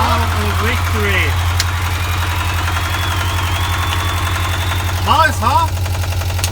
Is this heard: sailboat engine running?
yes